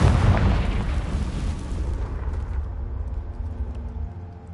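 A heavy explosion from the Confringo fire spell in Hogwarts Legacy, a loud low boom at the start that rolls off into a long rumbling decay with no voices.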